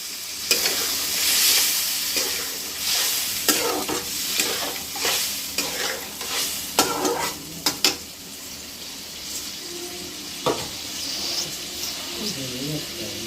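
Paneer fried with boiled moong and chana dal in a pan, a steady sizzle under repeated scraping strokes of a spoon stirring the mixture, with a person talking over the cooking.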